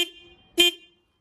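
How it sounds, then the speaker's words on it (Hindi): A newly mounted horn on a Hero Pleasure scooter is tested with two short, close honks: a brief one at the start and a louder blast after a pause. "अब देखो इसको हॉर्न टेस्ट कर देते कैसा है"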